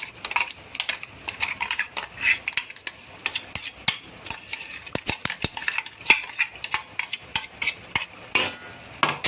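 Chopped onion stirred into ground coconut masala in a metal pan for a mutton curry, with rapid repeated clinks and scrapes of a spoon over a faint sizzle, close and busy throughout.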